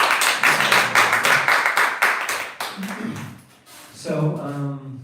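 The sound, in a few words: audience round of applause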